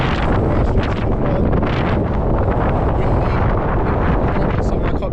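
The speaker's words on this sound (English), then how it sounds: "it is so windy" Strong wind on a Peak District hillside in the Goyt Valley roars and buffets loudly against the microphone, a constant rumbling blast that drowns out everything else.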